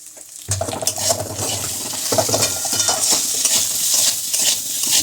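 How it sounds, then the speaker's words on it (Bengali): Potatoes and taro frying in a pan with turmeric added for a hilsa fish curry give a loud, steady sizzle under brisk stirring and scraping, close by and continuous after a short quiet start, with no voices. "আলু কচুটা ভাজা হয়ে গেছে এতে একটু হলুদ দিয়ে দিই"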